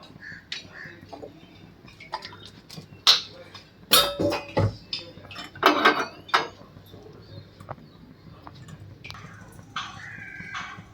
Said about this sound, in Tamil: இப்போ சாம்பார் தாளித்து நல்லா கொட்டி ஃபினிஷ் பண்ணிடலாம் தாளிக்கிறது பார்ப்போம்